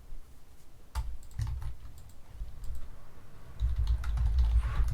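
Typing on a computer keyboard while writing a math function in code, with quiet, irregular clicks and key taps at close range, some heavier thumps near the end, and no talking.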